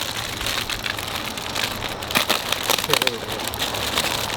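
A taped polyethylene poly tarp is torn and crinkled by hand outdoors near a chicken coop, giving a few short ripping, crackling bursts in the middle, with a voice speaking around them.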